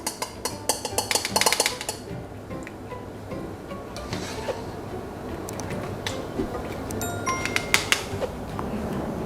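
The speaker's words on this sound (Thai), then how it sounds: "ตักขึ้นแล้วก็เอามาน็อกในน้ำเย็นนะครับ" Taro dumplings being scooped out of a cooking pot and dropped into cold water, with bright metallic clinks and scrapes of a utensil against the pot, irregular and close, over a soft watery background.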